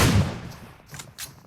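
A grenade going off in the PUBG video game, one loud, close boom that decays quickly, then a few faint crackles and pops trailing after it, with no talking.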